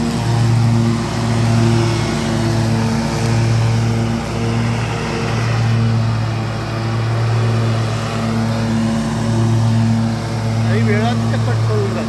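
A ride-on lawn mower cutting grass in the United States hums close by with a steady, loud engine drone that pulses gently as it moves, while a person talks over it.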